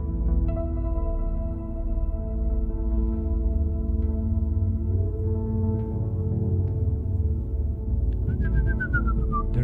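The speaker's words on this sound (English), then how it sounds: "There is a whistle." A synthesized whistle from a VCV Rack patch, its filter modulated by an LFO, sings high over a sustained dark ambient drone and bass, ending in a clear gliding, wavering tone.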